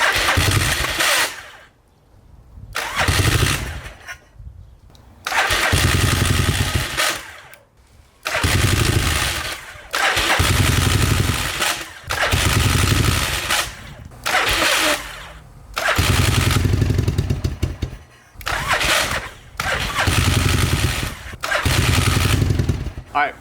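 A Yamaha Virago XV1100 motorcycle with an abandoned, non-starting engine cranks over again and again in loud bursts of a few seconds each, separated by short pauses, failing to catch, with talk in between.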